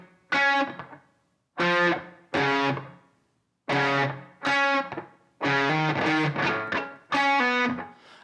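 An electric guitar run through a Line 6 Helix patch with delay and reverb plays separate clean, bright notes and short phrases, each ringing out and trailing away in a soft wash of echo between loud attacks.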